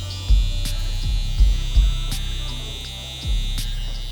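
JRL Onyx electric hair trimmers buzz steadily during a haircut, a close, constant hum with occasional thumps from handling, and no talking over it.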